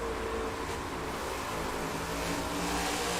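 A NASCAR race car engine in the video game NASCAR 22, at the Bristol night race, drones in a steady, broad roar with a low rumble, holding a constant level throughout.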